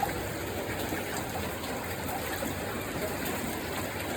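Floodwater from a typhoon rushes in a steady, loud, continuous gush, like a strong flow pouring past close by.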